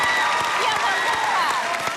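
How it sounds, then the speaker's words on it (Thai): Audience clapping at a Thai school event featuring a modern luk thung band, a steady patter of applause under tonal music and a faint voice, moderately loud and continuous. "เอ้าปรบมือกันเลย"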